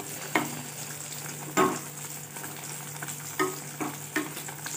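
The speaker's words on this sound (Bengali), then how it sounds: "সুজিটা এখন আমি মিশিয়ে নেব ভালো করে এর মধ্যে।" Semolina is stirred into a carrot kalakand mixture in a pan, several scraping spoon strokes at irregular intervals over a low steady sizzle.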